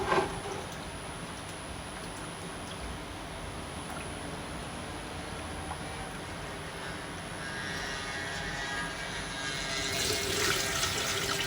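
Rice is washed in water, with a steady close rush and swish that runs throughout and swells louder near the end.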